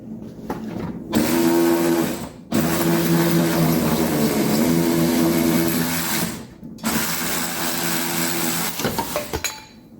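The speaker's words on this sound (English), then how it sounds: "now I'm going to undo the top nut for the shock and then it should fall right out" A power tool, likely an impact wrench, undoing the top shock absorber nut on a 1973 Dodge Dart, loud close whirring bursts of several seconds each separated by short pauses, with a few clanks at the end.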